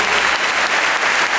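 Dense, loud audience applause fills a hall at the 2010 World Tango Championship tribute, a steady wash of many hands clapping without pause.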